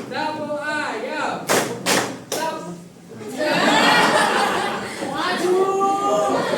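A classroom of children performs the chicken clapping game, with a few sharp clap bursts followed by lively group chanting and laughter as a teacher's voice leads.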